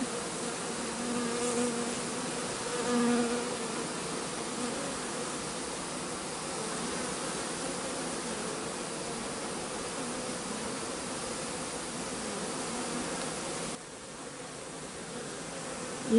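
Honey bees buzz steadily around an open hive during a shook swarm, a dense, continuous hum that stays fairly loud throughout with no voices.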